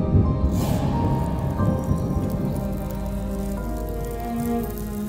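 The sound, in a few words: rain falling in an animated cartoon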